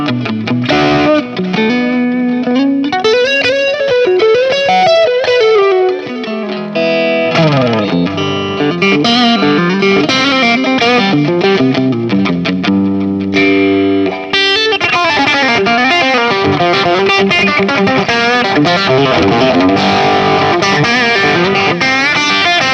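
Electric guitar played through effects with distortion and chorus, a dense rock tone with chords and sustained notes ringing loud and continuous.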